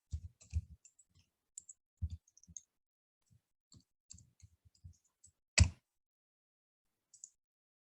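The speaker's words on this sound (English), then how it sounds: "I'm going to start typing some words on the board" Keyboard typing in a classroom, a scattered run of soft clicks and taps with irregular pauses, then one sharper louder knock near the end and a faint final tap.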